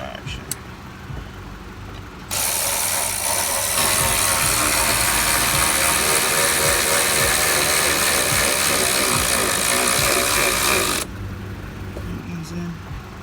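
A ratchet tightens a bolt on a 2013 Cadillac SRX during camshaft sensor work, a steady run of close mechanical clicking lasting several seconds amid garage noise, with a voice speaking around it.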